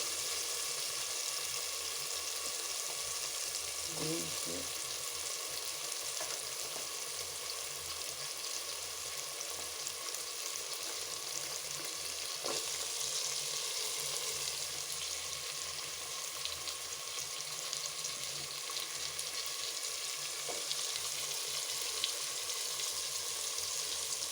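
Carrot, potato and other vegetables with ginger, garlic and tomato sauté in a pan for pulao, giving a steady, moderately loud sizzle with occasional stirring clinks and no talking.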